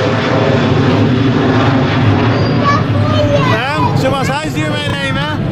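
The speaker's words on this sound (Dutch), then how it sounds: "Ondertussen gaat er een vliegtuig over." A propeller airplane flies overhead at a zoo, a steady broad engine drone holding throughout, with crowd babble and people talking underneath.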